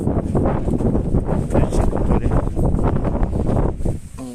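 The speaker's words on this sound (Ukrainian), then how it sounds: "вітер знявся" Steady wind buffeting the microphone, a loud continuous low rumble with gusty swells throughout.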